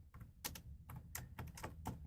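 Typing on a slightly faulty computer keyboard, a quiet run of irregular clicky keystrokes in bursts, close and alone with no talk.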